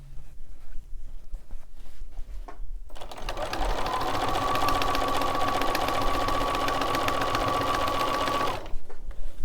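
Sewing machine running steadily as it stitches binding onto a quilt, a continuous close whirring hum that lasts several seconds, with quieter handling noises before and after.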